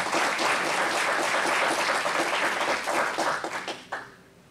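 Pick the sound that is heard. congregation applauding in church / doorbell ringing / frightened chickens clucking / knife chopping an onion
congregation applauding in church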